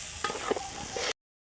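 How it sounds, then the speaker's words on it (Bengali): Rice and lentils sautéed with country chicken and spices in a pot at an outdoor New Year picnic, a soft sizzle with a few scraping stirs, cutting off abruptly after about a second. "চাল ডাল দিয়ে সুন্দর করে কষাচ্ছে"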